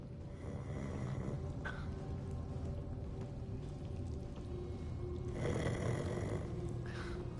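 A character in the video game Hogwarts Legacy snores loudly and steadily, with rough, rumbling breaths repeating across the stretch and a stronger snort near the end, close and alone.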